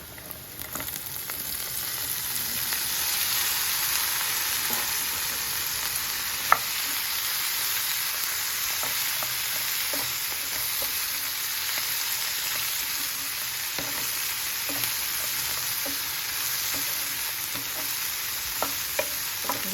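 Capsicum pieces frying in oil with turmeric in a pan, a constant close hiss and sizzle punctuated by light scraping stirs, no talking.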